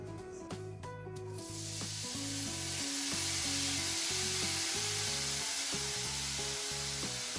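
Cabbage hits a hot pan and sizzles steadily, a broad frying hiss that stays loud and continuous throughout, with no talk over it.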